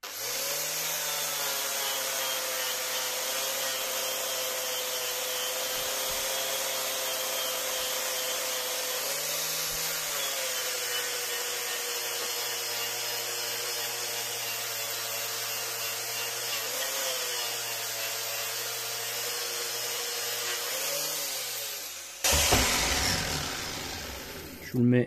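A grinder polishing metal runs at a steady, loud whine for over twenty seconds, its pitch dipping slightly as it bears down on the workpiece, then it winds down with a clattering handling noise at the end.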